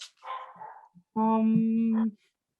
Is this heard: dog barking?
yes